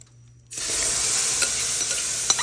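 After a brief quiet moment, chopped onion, celery and bell pepper hit a hot, dark roux for chicken and sausage gumbo, setting off a loud, steady sizzle with occasional scraping stirs.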